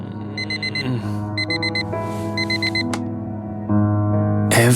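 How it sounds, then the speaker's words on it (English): Alarm clock ringing in the video game Fragments of Him, loud repeating electronic beeps in quick bursts over a sustained musical tone, with a brief bright noise at the end. "Every day that alarm goes off."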